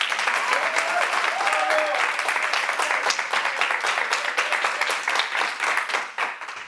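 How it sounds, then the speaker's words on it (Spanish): An audience gives a co-presenter a strong round of applause, loud sustained clapping with crisp individual hand claps that continues throughout before tapering slightly at the end. "Un fort aplaudiment pel Javi."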